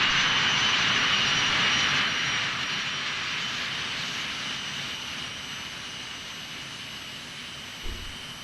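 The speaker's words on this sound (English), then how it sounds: "I'm going to go outside and do a flyby." An Eclipse 550 business jet in the X-Plane 11 flight simulator roars past, loudest at first, then its steady jet whine slowly fades away over several seconds with no talking.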